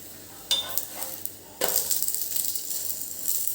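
Paneer paratha frying in oil on a hot pan, with a steady close sizzle that jumps louder partway through as more oil hits the pan, plus a few soft scraping touches.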